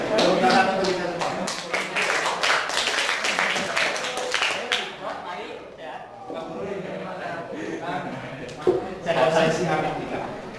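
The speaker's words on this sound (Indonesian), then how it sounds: "Tepuk tangan untuk kita semua." A group of teachers in a training session claps together, a dense burst of applause that eases midway and swells again briefly, with talking underneath.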